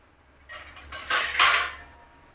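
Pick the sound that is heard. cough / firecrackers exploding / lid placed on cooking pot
lid placed on cooking pot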